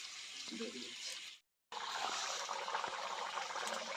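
Water pours steadily into a cooking pot of potatoes in a village kitchen, a close hiss that runs about 1.4 seconds, breaks off briefly, then resumes just as strongly.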